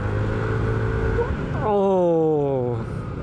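A Kymco RTS R165 scooter accelerates while riding to overtake, its engine note climbing steadily in pitch over a rumbling road and wind background.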